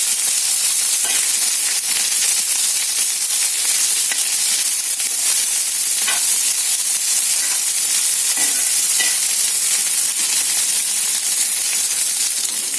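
Finely chopped onions frying in a pan for a ridge gourd curry, a loud, steady sizzle that runs unbroken throughout, with occasional faint stirring scrapes.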